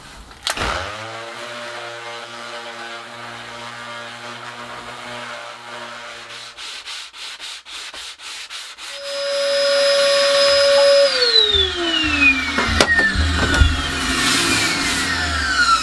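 A power sander working over a repaired wooden moon arch, a steady motorised whine that is joined by a louder grinding rush and then winds down with a falling pitch, close and with no talk.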